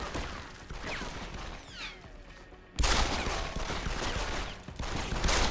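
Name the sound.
gunfire in the video game Deus Ex: Human Revolution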